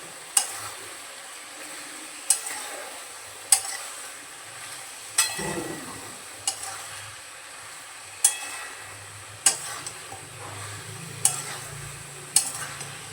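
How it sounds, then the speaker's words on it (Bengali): Malabar spinach cooked with shrimp, potato and pumpkin is stir-fried in a pan. A spatula scrapes the pan in regular strokes about every second, over a soft, steady sizzle. "এবার এটাকে একটু ভাজা ভাজা করে নেব।"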